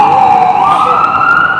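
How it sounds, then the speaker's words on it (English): A wailing emergency siren sweeps steadily upward in pitch, loud and continuous, out on the streets of Minneapolis. "Oh, someone called an ambulance."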